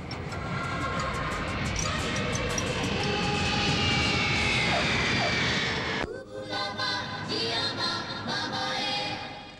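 An airplane descends to land in Switzerland, its loud, steady jet roar filling the scene with a falling whine. The sound dips briefly about two-thirds through before it swells again.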